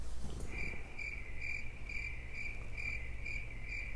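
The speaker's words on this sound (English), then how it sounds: "Crickets." Cricket chirps as a stock sound effect, a bright, even pulsing trill repeating in regular bursts about twice a second over a low background hum, alone with no voices.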